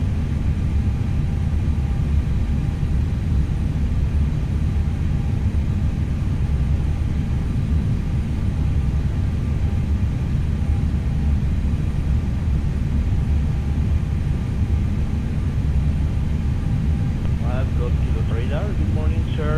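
Airliner engines hum steadily during the climb in a flight simulator, a constant low roar throughout with a voice briefly speaking near the end.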